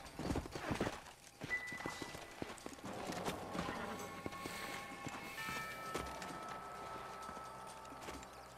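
Horse hooves clip-clopping in the video game Red Dead Redemption, a loose irregular clatter of hoofbeats from several horses slowing and milling about, mid-distance and fairly faint under game music and ambience.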